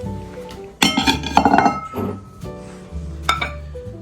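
Decorative bowls for a black-and-white Christmas display being set back in place, a cluster of close, bright ceramic clinks followed by a few softer knocks and one last sharp clink, with no talking.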